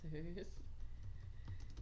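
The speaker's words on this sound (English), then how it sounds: "Don't mind my typing." Rapid keystrokes on a computer keyboard, close and clear, with a brief voice at the start.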